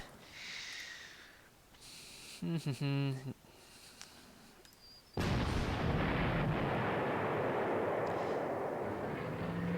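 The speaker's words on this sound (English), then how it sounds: "So now, witness the power of the 88 gun." An 88 gun firing in the Panzer Corps strategy game, a heavy booming blast that starts midway and rolls into a long loud roar, preceded by softer game effects.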